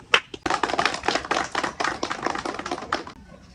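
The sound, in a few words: audience clapping hands for performing monkey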